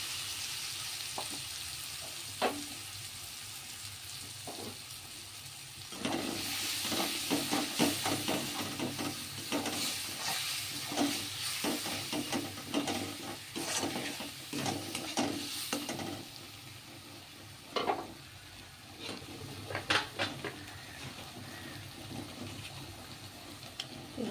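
Curry paste poured into a pan of fried vegetables for Navaratna paneer sizzles and crackles steadily, with scraping stirs and clatter that grow busier partway through, loud and close without talk.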